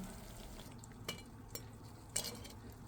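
Jilapi made with mashkalai dal and date-palm jaggery sizzles softly in hot oil, with a few clinks of a metal utensil against the pan as the pieces are lifted out, quiet and close.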